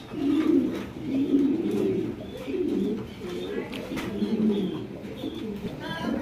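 Pigeons kept in a pen coo in low, repeated throaty phrases, moderately close, with faint background murmur.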